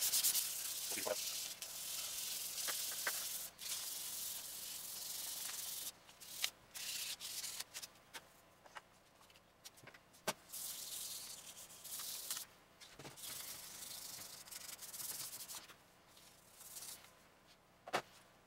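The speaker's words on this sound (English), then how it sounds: "And we're also going to sand the bottom of the SnapBow along our center line here. So let's just go ahead and sand." Sandpaper rubs along the center line of SnapBow foregrip parts in steady, dry scratching strokes, with a few sharper scrapes and brief pauses between passes, close and moderately loud.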